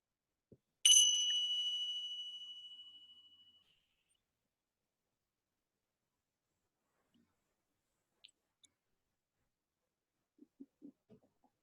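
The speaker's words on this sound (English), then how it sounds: "listening for the opening bell" A single meditation bell struck once, ringing out clear and bright, then fading slowly over about three seconds into quiet, followed by a few faint soft clicks and small rustles in a still room.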